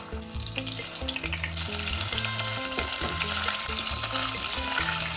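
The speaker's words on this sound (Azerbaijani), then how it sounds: "Və qızğın bol yağda qızardırır." Homemade chicken nuggets, coated in starch and batter, deep-fry in plenty of hot oil with a steady, even sizzle that runs throughout beneath louder background music.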